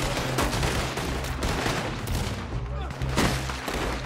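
Sustained covering gunfire in a Red Dead Online roleplay shootout, with dense overlapping shots and rapid bursts filling the scene at steady loudness throughout.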